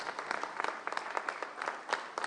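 Audience at a conference on universal values applauding the speakers, a steady patter of many hands clapping at moderate distance, fairly soft and continuous throughout.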